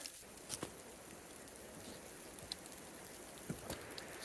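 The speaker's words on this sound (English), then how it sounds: "That's sleet." Sleet falling on a cold, wet trail campsite, a steady soft patter of tiny icy pellets with a few sharper ticks of nearby hits, even and continuous.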